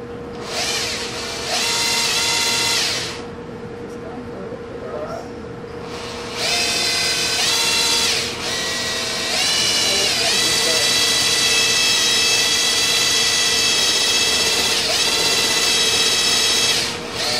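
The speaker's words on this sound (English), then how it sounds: "Make sure you have your drill in hand and a 5/16 drill bit." A power drill with a 5/16 bit whirs in several bursts while drilling holes for ROV thruster mounts, spinning up and winding down, with a steady background hum between runs.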